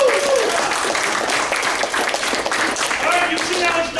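An open mic comedy audience claps and cheers in a loud, dense burst of applause that holds steady for a few seconds with crowd noise mixed in.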